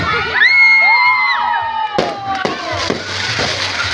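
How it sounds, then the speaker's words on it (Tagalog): Fireworks bang and crackle after a whistling launch, with a crowd cheering and shouting nearby throughout. "Dito yung fireworks."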